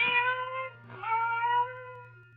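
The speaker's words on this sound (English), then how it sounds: "Then the silence was broken by the faint crying of one cat." A cat cries in two drawn-out, plaintive meows over a steady low hum, fairly soft and nearby.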